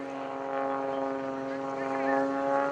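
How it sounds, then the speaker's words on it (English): Aerobatic propeller airplane flying overhead at a lake airshow, a sustained droning buzz with slight shifts in pitch as it maneuvers, heard at a moderate distance beneath a voice narrating over a loudspeaker. "Rolls the airplane back to inverted."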